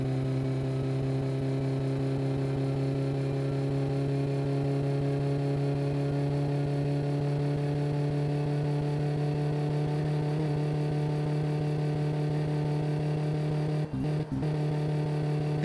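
Engine of a car in the driving game My Summer Car held at high revs against the rev limiter, a loud steady droning hum with faint stuttering cuts, and no speech.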